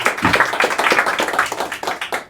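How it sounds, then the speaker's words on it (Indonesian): Audience clapping for a comedy talk show's live studio crowd, a steady burst of overlapping handclaps filling the whole span at moderate loudness with no talk over it. "Tepuk tangan."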